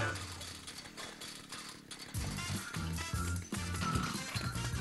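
Chainsaw slicing into a zombie in the action game Lollipop Chainsaw, a loud buzzing rev with chopping impacts over pulsing music and game effects, repeating in bursts during the second half.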